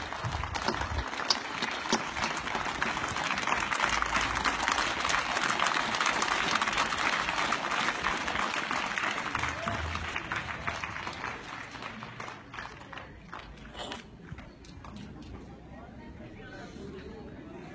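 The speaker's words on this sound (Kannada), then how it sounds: "ಒಂದು ಎತ್ನಿ ಚಪ್ಪಾಳೆ ತೊಡಬೇಕು ಅಂತ ನಾನು ಕೇಳ್ಕೊಳ್ತೀನಿ" A school crowd at an Independence Day celebration gives Wing Commander G V Atri a long, dense round of applause that stays strong for many seconds, then thins and fades, with voices murmuring underneath.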